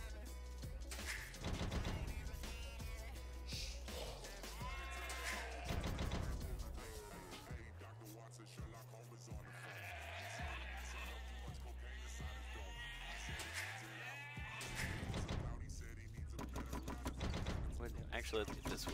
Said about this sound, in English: More sheep over there.